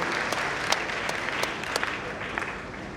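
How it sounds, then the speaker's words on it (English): Dense, steady applause from a large crowd at a university anniversary ceremony in Ghana, filling the whole stretch, with a few sharper individual claps standing out. "A loud round of applause to the University Faculty."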